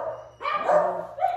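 Dogs barking nearby in a short burst of several sharp barks, loud against a quiet indoor background.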